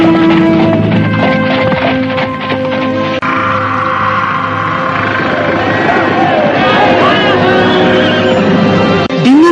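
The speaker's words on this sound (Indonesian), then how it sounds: "Kereta terbuka yang ditarik dengan 6 ekor kuda" Horses pulling an open carriage whinny and neigh over a loud, busy background of crowd murmur and voices, with faint hoof clatter, continuous and close.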